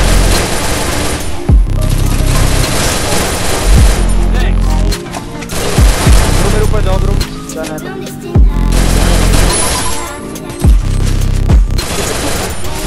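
Repeated bursts of rapid submachine gun fire from a Double Vector in the Free Fire battle royale game, loud and close, broken by short pauses and heavy impact booms, with a voice talking intermittently over the gunfire.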